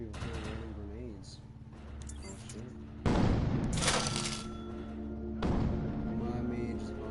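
Gunfire and heavy thumping blasts in the video game Defiance 2050, sustained firing with sudden booming bursts and someone talking over the action.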